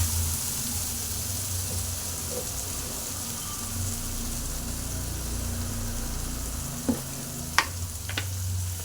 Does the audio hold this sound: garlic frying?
yes